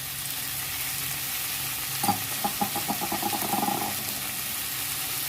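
Ginger and garlic paste sizzles steadily in a hot oiled pan alongside green chillies, with a run of rhythmic scraping stir strokes from a spatula partway through, close and moderately loud with no talking.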